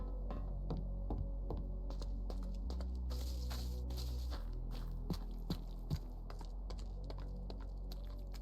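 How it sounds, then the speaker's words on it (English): Footsteps on different blocks in the Minecraft video game, a steady run of soft, crunchy taps with a few sharper clicks, quiet and alone over a low constant hum. "The sound of footsteps on different blocks should also be refined."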